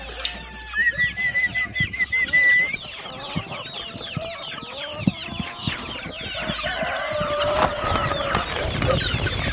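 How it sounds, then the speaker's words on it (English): Chickens cluck and chirp outdoors in freezing cold weather, a busy close chorus of short repeated clucks and peeps with rustling underneath, growing denser toward the end. "chickens."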